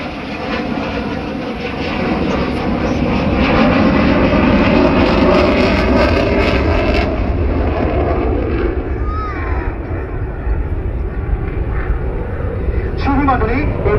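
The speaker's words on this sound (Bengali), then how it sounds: "আপনাদের দৃষ্টি আকর্ষণ করছি ডান দিকে প্যারেড গ্রাউন্ডের দক্ষিণ আকাশে MiG-29টি প্রদর্শন করবে" A MiG-29 fighter jet flies a slow-speed handling display over an Independence Day parade ground, its engine roar a broad, steady rumble swelling in the middle, with a public-address voice speaking over it.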